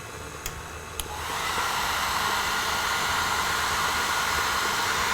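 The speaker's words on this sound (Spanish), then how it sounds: "Y solamente le vamos a dar calor con un secador de pelo durante 20 segundos." A hair dryer blows a steady loud rush of air to warm buttercream as it is beaten in a mixer at low speed, starting after two brief clicks and then running constantly.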